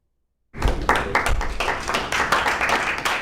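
A room of people clapping and celebrating at a Portland city council meeting, the applause starting abruptly after silence and continuing as dense, close, uneven hand claps with a few louder strikes.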